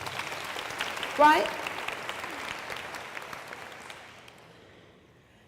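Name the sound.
audience applause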